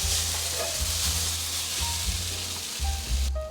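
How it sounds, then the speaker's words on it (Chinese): Ingredients stir-fried in a hot wok, a steady loud sizzle running throughout with rhythmic scraping and stirring strokes, close up and with no talk. "大概炒了3-4分钟左右，调味料都融合了，现在可以关火起锅。"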